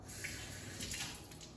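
Tap water runs steadily into a sink as a glass is rinsed while a paloma is being mixed, a continuous close splashing hiss with no talk over it.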